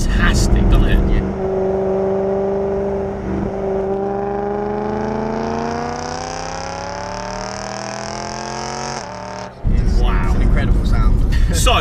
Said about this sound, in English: Oh mate, it sounds fantastic, doesn't it?